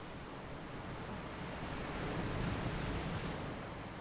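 Ocean waves wash onto the shore in a steady, soft, hissing roar that swells slightly midway, heard faintly and alone.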